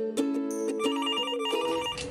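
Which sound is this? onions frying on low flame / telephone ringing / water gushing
telephone ringing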